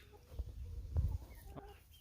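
Chickens cluck softly nearby, a few short low clucks and calls scattered over a quiet background.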